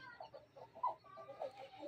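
A rooster kept in a home pen gives several soft, short clucks in an uneven rhythm, quiet and close, with no talking.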